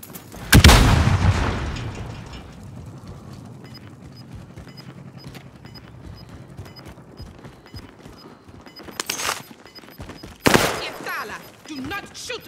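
Gunfire in the video game Call of Duty Warzone: a sharp, loud burst opens the sequence, quieter rattling follows, and two more heavy bursts come near the end.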